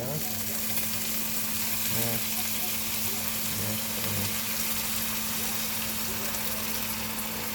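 Pork chops simmering in beef broth in a pan give off a steady loud sizzle and bubbling throughout, with a few faint stirring knocks.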